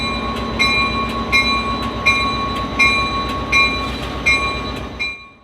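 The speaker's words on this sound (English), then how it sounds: "Amtrak number 231, an F40PH locomotive" Amtrak 231, a 1977 EMD F40PH diesel locomotive at a railway museum, idles with a steady low drone while sharp periodic clanks repeat about every three-quarters of a second, then the sound cuts off abruptly.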